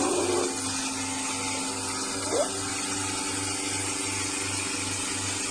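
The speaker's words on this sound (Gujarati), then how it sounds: "મશીન છે ગાયો ધોવાનું આ રીતના ગાયો દોરાય" A cow milking machine runs at a dairy with a steady mechanical hum and an even, rhythmic pulsing that continues throughout, close and fairly loud with no talking.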